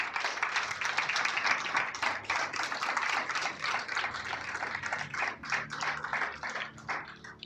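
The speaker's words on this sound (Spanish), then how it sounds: "Alguien dele un aplauso fuerte al Señor." Church congregation applauding during a sermon, a dense, sustained roll of many hands clapping at once that stays fairly loud and gradually thins toward the end.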